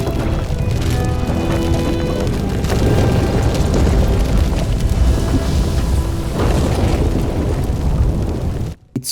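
Fire bursting up as Podboy sets Housie ablaze in the video game The Midnight Walk, a loud, continuous roaring rumble with crackling surges that holds for several seconds before cutting off abruptly.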